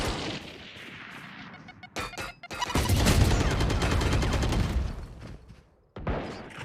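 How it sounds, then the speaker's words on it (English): A swarm grenade detonating in an online shooter game, a long rolling burst of rapid crackling gunfire-like pops that swells loud and dense, breaks off abruptly, then resumes briefly. "Placing swarm grenade. Swarm grenade out."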